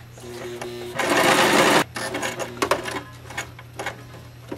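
A sewing machine stitches a fabric rice hot bag in a short, loud, fast whirring burst close by, then stops, leaving light clicks and handling sounds as the presser foot is lowered again.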